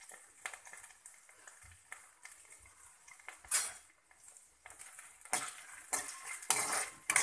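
Ginger, garlic and badgi red chilies frying in a pan, with repeated close metal clinks and scrapes of a spoon against the pan over a light sizzle, growing busier and louder toward the end.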